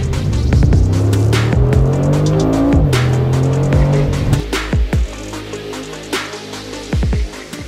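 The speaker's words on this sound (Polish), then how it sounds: "Wydech klapowy Brabus sprawia, że dźwięk idzie w parze z wyglądem i osiągami." Brabus valved exhaust on a Mercedes-AMG G800 Widestar G-Class, a loud, deep revving roar with throttle swells and sharp cracks and pops as it settles, close and alone with no talk.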